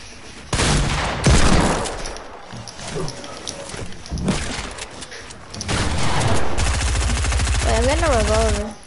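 Video game gunfire including a newly picked-up shotgun, with repeated loud shots and bursts in quick succession, mixed with players talking over the action and a tonal game effect near the end.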